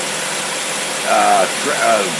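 A carbureted Dodge test engine with a Thermoquad replacement carb runs on a dyno in neutral, driving only accessories such as power steering, AC and water pump; steady loud broadband running noise with two brief swells partway through.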